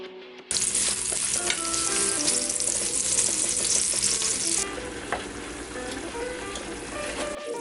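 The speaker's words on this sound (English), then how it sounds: "Sauté the onion." Onion sautéing in a pan for Filipino menudo gives a loud, steady frying sizzle that starts abruptly and runs throughout, easing slightly in level partway through, with no voices.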